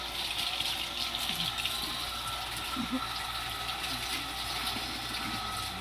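Steady rushing of water pouring out of a manually drilled well with a constant churning flow, accompanied by a low mechanical hum from the pump; no talking.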